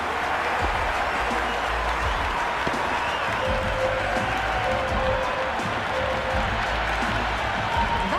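Stadium crowd applause and cheering in an IPL cricket video game match, Delhi Capitals versus Kolkata Knight Riders, a steady loud wash of clapping and crowd roar lasting throughout after a big hit, with a faint commentary voice beneath.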